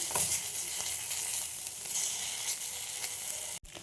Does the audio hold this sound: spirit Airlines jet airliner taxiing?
no